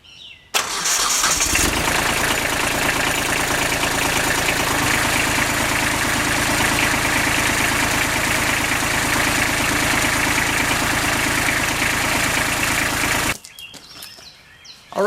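A Kubota B7500 compact tractor engine cranks and catches, then settles into a steady loud idle after a fuel and air filter change, running close for about twelve seconds before cutting off abruptly.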